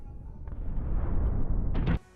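Explosion during an attack on Beirut, a heavy sustained rumbling roar lasting about two seconds and then cutting off sharply after a final burst.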